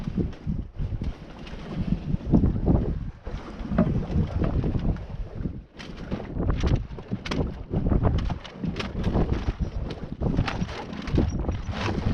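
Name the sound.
mainsail being lowered on a Contessa 26 sailboat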